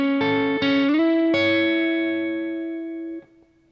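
Distorted electric guitar chords slide upward along the neck, a few plucked attacks ringing out and sustaining before fading.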